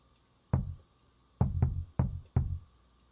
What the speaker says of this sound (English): They hear the knocking.